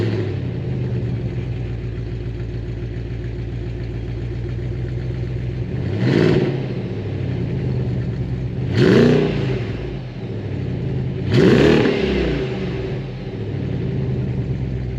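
A BMW X5 4.8is V8 engine idles with a deep, steady rumble, then revs up sharply three times in rising blips that settle back to idle, close and fairly loud.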